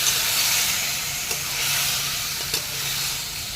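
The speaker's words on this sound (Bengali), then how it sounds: "মাংসগুলো দিয়ে আমি ভালো করে নেড়ে চেড়ে দেবো।" Marinated chicken fries in a pan with papaya over low heat, giving a constant broad hiss and sizzle close by, with a couple of soft scraping stirs along the way and no talking.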